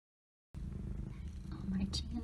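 A mother cat with newborn kittens purrs loudly and close up, a continuous low rumbling vibration starting after a brief silence.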